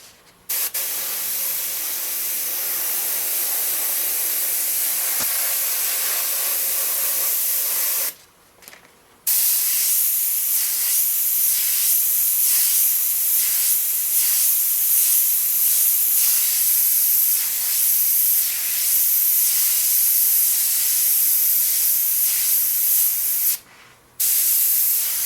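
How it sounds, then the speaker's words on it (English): A Neo-Iwata BCN airbrush sprays golden airbrush fluid with a steady, close hiss of compressed air. Two brief gaps interrupt the otherwise continuous spray. "With golden airbrush fluid, it sprays pretty nice."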